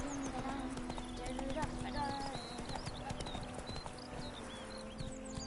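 The horse Roach clip-clops along at a walk in The Witcher 3, hooves falling in a steady rhythm beneath game music and spoken dialogue.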